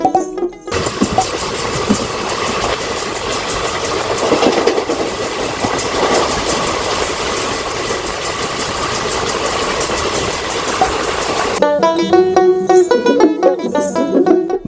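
Kanchanjunga Express, train 13175, running from Sealdah toward Bolpur: steady loud rumble and rattle of carriages on the rails throughout, shifting near the end into sharper rhythmic clickety-clack over track joints.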